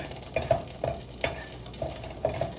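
Chopped onions fry and caramelize in a Dutch pot, a soft continuous sizzle punctuated by several light scraping stirs at a steady pace, close and without talk.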